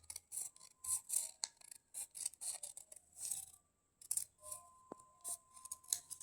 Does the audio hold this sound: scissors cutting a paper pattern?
yes